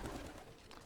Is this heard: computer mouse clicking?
no